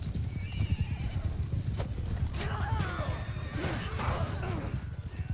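An armoured warhorse in Mount and Blade II Bannerlord gallops with rapid clip-clopping hooves and lets out a loud whinny amid clanking battle noise.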